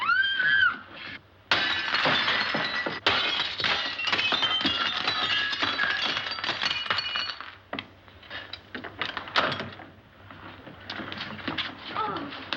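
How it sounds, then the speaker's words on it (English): A glass pane in a door is smashed in a 1941 comedy film scene: a loud, sudden crash bursts into bright shattering, followed by a second impact and scattered tinkling and clinking of falling shards amid rattling movement. "May I suggest, sir, that you break the glass?"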